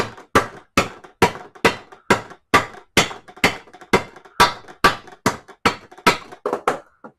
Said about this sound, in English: You could also just tap it with a hammer.